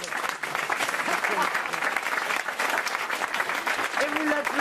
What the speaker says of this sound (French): Et vous l'applaudissez.